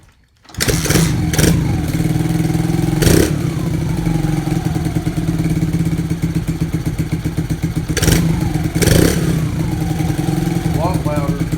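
Kawasaki KLX110 dirt bike engine fitted with a new air filter, running loud and close at a rough idle with a few sharp revs.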